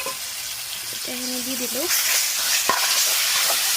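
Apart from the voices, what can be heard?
ingredients frying and being stirred in a pan for a curry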